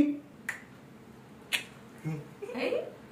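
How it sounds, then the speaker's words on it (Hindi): A few crisp finger snaps sound close and quick, spaced about a second apart, in a quiet room, with soft voices around them. "चुटकी दे देना ठीक है तुम्हारा जादू जादू वाली चुटकी"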